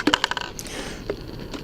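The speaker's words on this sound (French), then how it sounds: "je vais ôter le bouchon" A plastic bottle cap is twisted off a bottle being cut into an Asian hornet trap. A quick run of small, sharp, close clicks is followed by faint rustling.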